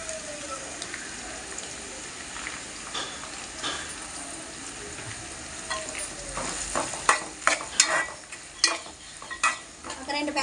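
Onions frying in a pan for vegetable biryani: continuous sizzling with stirring, then a run of sharp clinks and scrapes of a spoon against the pan growing louder toward the end.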